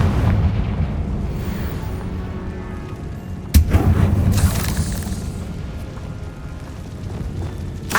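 A Confringo fire spell from Hogwarts Legacy on PS5 explodes inside a tomb with a sharp blast at mid-clip, set against a dense rumbling game soundscape that rolls on steadily before and after the hit.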